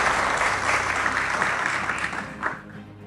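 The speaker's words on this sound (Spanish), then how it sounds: "Un aplauso." An audience at an award ceremony for school directors gives warm, dense applause that fills the room, tapering off toward the end with a few last claps.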